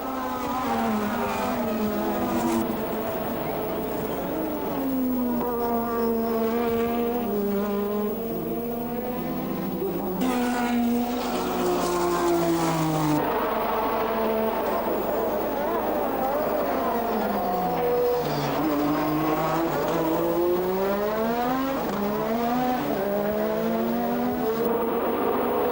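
1986 Formula 1 race cars, Williams and Lotus among them, howl past on track with loud, continuous high-revving engine wails that rise and fall in pitch through gear changes, several cars overlapping throughout.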